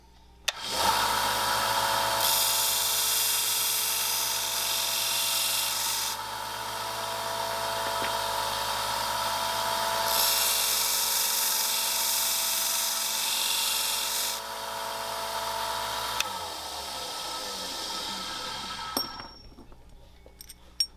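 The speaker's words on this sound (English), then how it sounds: "So we have this belt sander here." Belt sander running continuously for about eighteen seconds while cleaning up the edges of model train wheels, a loud steady abrasive whir that swells and eases as pieces are pressed on, then spins down and stops.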